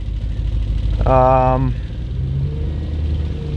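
An Audi RS4 engine idles as it warms up, a steady low rumble that runs throughout while a voice speaks over it.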